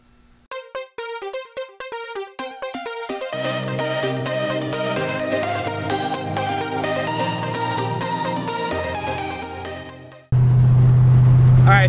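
A tuned Mercedes CLK55 AMG with ECU and transmission tune bursts in loud and close near the end, a heavy engine roar following a long stretch of music with no engine heard.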